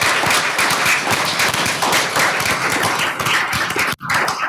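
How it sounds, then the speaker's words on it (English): An audience at a school governing board meeting gives a loud round of applause for school administrators, with dense, close clapping and a few sharp individual claps continuing throughout, then a brief dip before the clapping resumes. "a round of applause."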